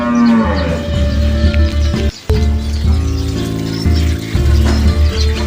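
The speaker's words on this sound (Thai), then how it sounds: "วันนี้ไม่เข้าคอกเนาะลูกวัวอยู่ตรงนี้แหละเนาะ" A calf mooing in an open rural field near banana groves in Surin province, Thailand, at dusk. Loud, close, drawn-out moos repeat with faint bird chirps behind.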